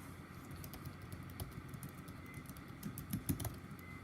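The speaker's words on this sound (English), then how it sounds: "And I'm just going to type my name." Typing on a computer keyboard, a light run of soft key clicks at close range with a low steady hum in the background, no talk over it.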